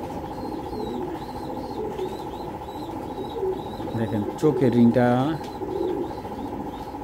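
Racing pigeons held in the hand and shown up close give soft, low cooing, with a brief rustle of wings, under someone talking nearby.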